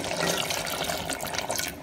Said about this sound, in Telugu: ఇప్పుడు నీళ్ళు వేసుకోవాలి.